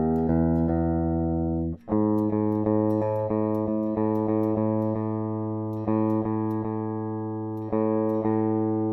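A sustained electric guitar tone hums with a steady low note, plucked repeatedly as the guitar is tuned toward E, with a brief cut partway through.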